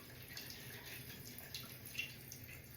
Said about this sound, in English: And that is starting to refill.